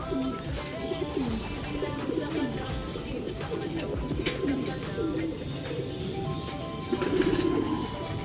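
Racing pigeons coo steadily inside transport crates, many birds murmuring in overlapping low rolling calls. Constant rustling and background noise sit under them, and a louder burst comes near the end.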